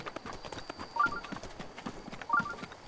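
Horse hooves clip-clopping near a stable in a Legend of Zelda game, a steady moderately loud clatter of steps with faint chimes over it and no talking.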